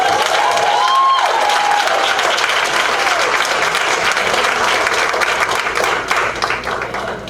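Audience applause at a school district board meeting, a full, continuous burst of many people clapping that carries on evenly and thins slightly toward the close.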